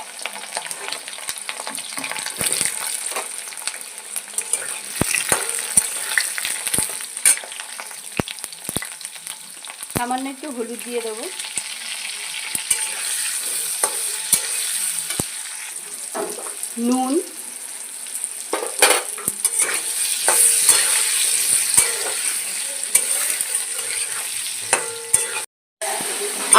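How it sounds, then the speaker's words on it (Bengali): Cut potatoes frying in hot oil in a wok, a steady close sizzle with scraping stirs and clacks of a utensil throughout; someone speaks briefly partway through. "কেটে রাখা আলুগুলো আগে ভেজে নেব আমি"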